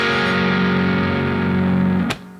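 A distorted electric guitar rings out one sustained chord, the first chord of a song played in an alternate tuning, loud and alone, then cut off abruptly with a brief scrape near the end.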